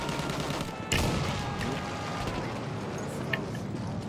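Rapid bursts of gunfire in a multiplayer shooter video game, a steady crackling barrage with a sharper shot near the start, heard under a player's talk.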